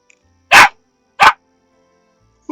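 Two sharp, loud dog barks about half a second apart from a pet dog in the farming life-sim game Palia, close and clear against a quiet background, with another bark starting at the very end.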